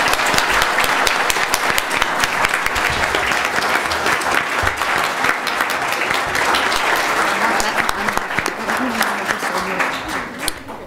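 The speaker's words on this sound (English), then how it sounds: "let's thank them with another round of applause" A seated audience at an afternoon talk event gives a sustained round of applause, dense steady clapping from many hands filling the room, fading slightly at the very end.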